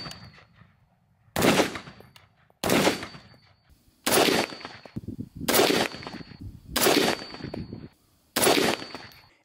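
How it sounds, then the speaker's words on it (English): An M1A rifle with a 22-inch barrel fires .308 rounds in six loud, sharp shots, spaced a second or so apart, each one trailing off in a brief echo. "Shooting 308 is a fantastic experience with the M1a."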